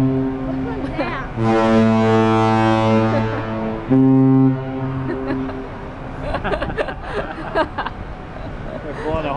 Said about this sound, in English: They're blowing the horns at each other.